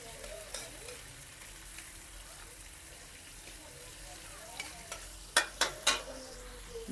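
Garlic sautés quietly in a pan with a low, continuous sizzle, and near the end a few sharp metallic clinks of a spatula stirring against the pan ring out close by.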